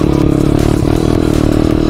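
Jawa KTM motorcycle revving hard while sliding sideways on fresh snow, a loud close engine roar with rough clattering texture through the short burst.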